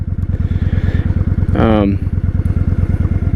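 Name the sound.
1998 Honda Shadow 1100 motorcycle with Vance & Hines Cobra pipes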